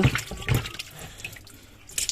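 A bucket of water is poured into a washing machine that is not draining, a brief splashing gush followed by softer trickling and dripping.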